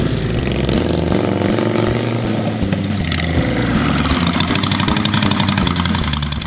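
A recycled custom-built motorcycle runs steadily and loudly nearby, its engine rumbling continuously with a rough, uneven idle throughout.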